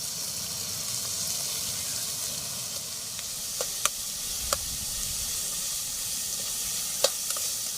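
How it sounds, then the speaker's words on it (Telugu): Chopped onions frying in oil in a pan over an outdoor cooking fire in a dense forest, a steady close sizzle with a few sharp knocks of a stirring spoon against the pan. "ఆనియన్స్ ఇవి బాగా దోరగా బాగా దోరగా వేగే వరకు మనం వేయించుకోవాలి"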